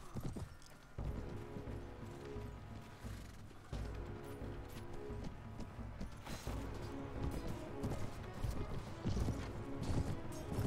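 Horse hooves in the video game Mount & Blade Warband, from a mounted rider in battle: rhythmic clip-clop at a running gait, steady and fairly close, with thuds and clatter mixed in.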